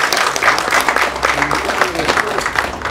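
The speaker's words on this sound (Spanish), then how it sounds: "Fuertes aplausos también a nuestros hermanos." Audience applause for traditional dance groups at a dance competition press event, dense steady clapping throughout with crowd noise and some voices mixed in.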